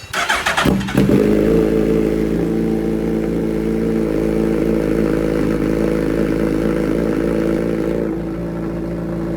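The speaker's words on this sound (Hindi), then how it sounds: "अभी गाइस हम लोग करने वाले हैं कोल्ड स्टार्ट, एंड इसे कोल्ड स्टार्ट करने वाले हम अपने एग्जॉस्ट के साथ" A modified Hayabusa motorcycle engine cold-starts, cranking and catching, then settles into a loud, steady, rumbling idle through a throaty exhaust, close up and continuous.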